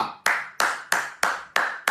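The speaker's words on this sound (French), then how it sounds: "On applaudit pour Pasteur Wilfried Zawi." Six loud, crisp hand claps land in an even, quick rhythm, each sharp and close with a short ring after it, and no one speaks.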